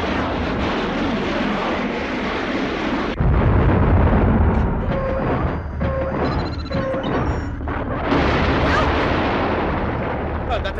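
Explosion in the 1994 film Apex, a loud sustained roaring blast with heavy low rumble, a sharp surge partway through and a steady barrage of noise continuing to the end.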